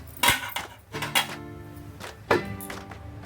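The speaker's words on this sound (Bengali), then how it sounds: "এখন আমি ঢাকনা একটু লাগিয়ে এক থেকে দুই মিনিট ছেড়ে দেবো" A metal lid set onto a cooking pan of dry okra and potatoes, several close clanks and knocks with short ringing tails, spaced irregularly over a quiet kitchen background.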